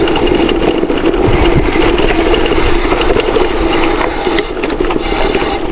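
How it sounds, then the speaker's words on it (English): Riding downhill at about 30 mph on a Torrent1 electric mountain bike off road, the brakes give a continuous rubbing, grinding noise mixed with loud rumbling from the rough trail, steady and close throughout. "it's like more like rubbing noise, which is normal"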